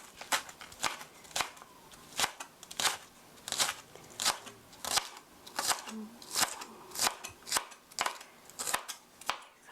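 Knife chopping halved onion on a cutting board for onion curry chicken: steady run of crisp, even thumps at close range, around a dozen cuts in quick rhythm with no pauses.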